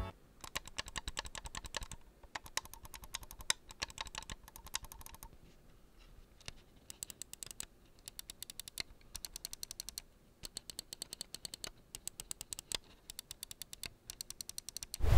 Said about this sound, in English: here's a quick sound test of what all the buttons sound like